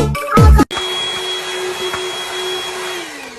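A household vacuum cleaner switches on with a short burst, then runs as a loud, steady whine that holds close and constant to the end, with no voices.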